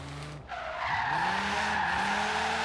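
Nissan GT-R Horizon Edition sliding through a corner in the Forza Horizon racing game, tires squealing in a sustained skid over a steady loud engine note, with no talk.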